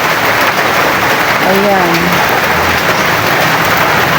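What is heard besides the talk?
rain falling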